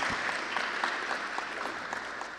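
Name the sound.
applause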